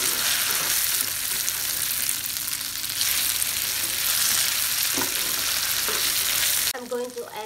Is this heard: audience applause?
no